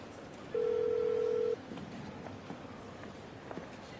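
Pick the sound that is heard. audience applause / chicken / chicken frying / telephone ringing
telephone ringing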